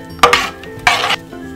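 A utensil stirs beetroot and water in a metal pot, making two quick scraping, clinking strokes against the pot, close and clear, with no voices.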